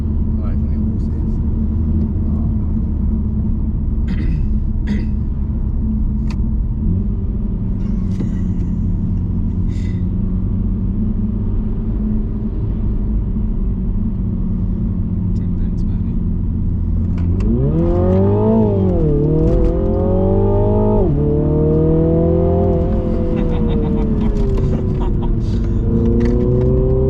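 A 2020 Mini Clubman JCW fitted with a full-carbon Eventuri intake drones steadily at cruising speed, then the engine rises and falls through several rev swells with audible induction noise, as people talk inside the cabin.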